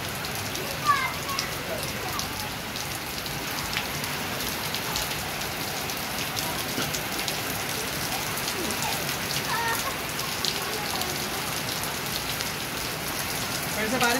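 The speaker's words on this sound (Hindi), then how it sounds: "फिर से बारिश तेज हो रही" Heavy rain pouring in Karachi, a dense, even hiss of drops pattering on surfaces nearby, steady and fairly loud for the whole stretch with occasional sharper splashes.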